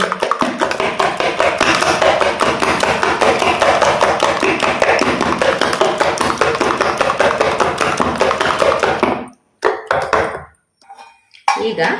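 Eggs with chopped onion being beaten for an omelette in a Mangalore-style home kitchen, a rapid steady tapping of utensil against bowl for about nine seconds, close and loud, then stopping with a few scattered taps.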